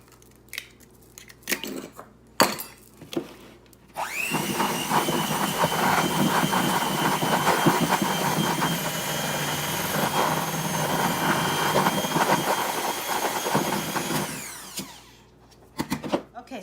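An electric hand mixer beats eggs into an oatmeal cookie mixture in a kitchen. A few bowl clinks come first, then a loud, steady whir runs for about ten seconds before it stops and the clinks return.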